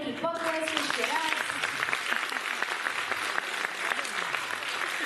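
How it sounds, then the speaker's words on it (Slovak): An audience at a Mother's Day performance breaks into loud, sustained applause, dense clapping from a full room that carries steadily throughout, with a voice briefly heard at the very start. "Krásne, veľký potlesk, ešte raz."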